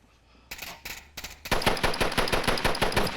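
Sustained automatic gunfire from rifles in the VR shooter Onward, a competitive match: a few scattered shots first, then a loud, rapid, unbroken burst of rounds close by.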